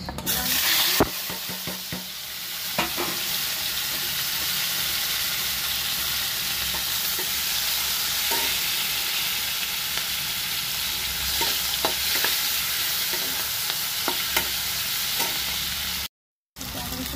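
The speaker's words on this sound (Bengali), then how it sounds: "এদিকে আমার মাছ হয়ে গেছে, মাছ ভাজা করে নিয়েছি। এবার দেবো পেঁয়াজ আর" Onion frying in oil in a pan just after fried fish, for a Bengali katla fish curry with potato and tomato: a steady, loud, close sizzle runs throughout, with scattered spatula scrapes and taps and one brief dropout near the end.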